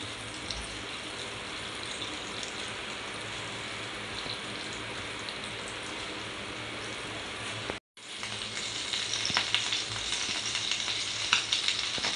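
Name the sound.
bangda mackerel fish frying in oil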